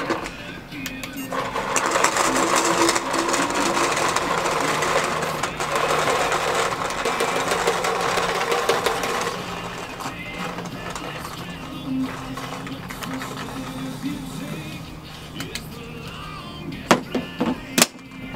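A Spire high-end paintball loader runs with a steady mechanical whir and rattle, loud and continuous at first, easing somewhat in the second half, with a few sharp clicks near the end.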